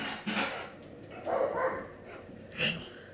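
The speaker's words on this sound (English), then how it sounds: "Based on the barks, I could tell. There was a squirrel." Dog barking at a squirrel outside, a few short separate barks and yips spread across a couple of seconds, moderately loud and not very close, with no speech over them.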